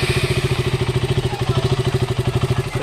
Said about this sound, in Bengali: Finally bike start.